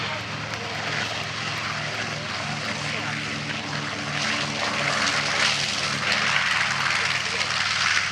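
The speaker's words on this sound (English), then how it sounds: "This is a J-model B-25. He'll be the first one making passes." A North American B-25J bomber's radial engines and propellers drone loudly and continuously during an airshow pass, a broad rough roar with a steady low throb, while an announcer talks over it.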